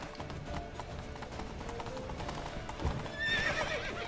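Horse hooves clip-clop steadily in The Witcher 3 game, with a whinny rising near the end over faint background ambience.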